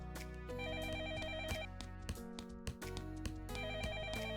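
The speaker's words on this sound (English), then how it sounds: "The phone in the living room rang" A living-room telephone in a visual novel game rings continuously in a repeating electronic warble over game music, fairly quiet, with no talk.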